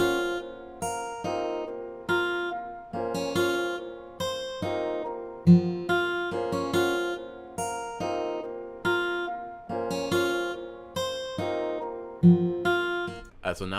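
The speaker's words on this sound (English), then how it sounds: "Alright, so I just finished up the guitar melody." A plucked guitar plugin melody in an FL Studio beat, repeating short phrases with regular note attacks, moderately loud and alone with no talk.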